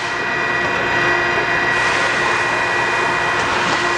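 Okamoto 820A 3-axis automatic 6 x 18 inch precision surface grinder running steadily as its table feeds across, a continuous loud broadband whir with steady tonal hum and no pauses.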